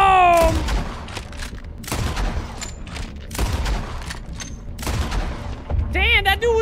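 Rapid bursts of gunfire in a Red Dead Redemption 2 shootout, loud repeated shots and booms in uneven volleys, with game music and a voice talking over them.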